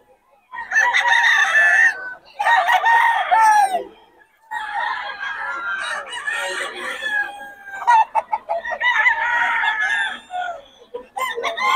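Several roosters at a poultry seller's place in Bocaue crow loudly in long repeated calls, one after another, with clucking between the calls and a little faint talk.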